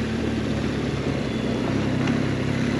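BMW GS 1200 motorcycle engine pulling steadily in second or third gear on a trail slope, a continuous loud low drone with no break and no voices.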